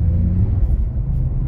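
A BMW E46 rear-wheel-drive car drifting on snow, its engine held under throttle in a steady, loud, close rumble with no voices over it.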